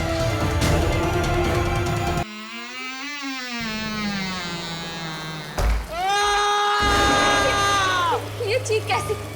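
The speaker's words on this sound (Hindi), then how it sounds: "ये चीख कैसे?" A scream in a Hindi horror TV drama scene: long wavering, wailing cries that rise and fall in pitch, loud and layered over eerie sound effects, with no speech.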